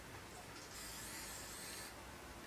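Spray paint can in the Fortnite video game giving a steady, faint hiss that swells in the middle and then fades back, with no talk over it.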